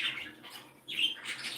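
Pet parakeets and other small birds in an indoor bird room, chirping in short bright tweets that come and go at moderate closeness, with no voices.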